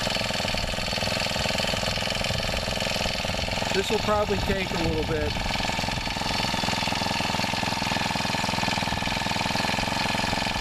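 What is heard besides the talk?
mini tiller engine idling while warming up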